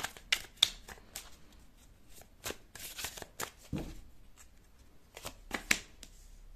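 Tarot cards being shuffled and drawn, a series of crisp riffling bursts and card flicks in an irregular rhythm, close and clear with quiet gaps between.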